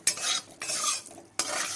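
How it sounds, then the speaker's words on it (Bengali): Spices, chilli powder and turmeric being stirred in a pan for a Bengali lentil dhoka dish, with a utensil scraping and clinking against the pan in three close, loud bursts separated by short pauses. "সব কিছু দিয়ে ভালো করে নাড়াচাড়া করে নেব।"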